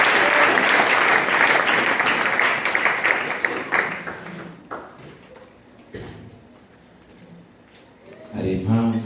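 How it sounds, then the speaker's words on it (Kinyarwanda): Church congregation applauds the pastor with loud, dense clapping for several seconds that thins out and fades, followed by a quieter stretch and then a voice speaking. "tumukomera amashyi"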